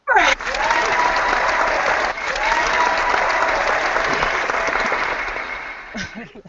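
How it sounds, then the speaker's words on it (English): A canned applause sound effect plays during a video call, a steady wash of clapping and light crowd noise lasting several seconds before cutting off. "Where's that applause thing?"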